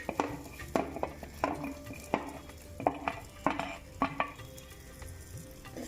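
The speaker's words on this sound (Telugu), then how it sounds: "ఉల్లిపాయలు వేస్తున్నానమ్మా ఉల్లిపాయలు పచ్చిమిరపకాయలు వేయాలి" Onions and green chillies go into a pan for gongura chicken, heard as intermittent spoon scrapes and clanks against the pan over a light sizzle, close and fairly quiet with no talking.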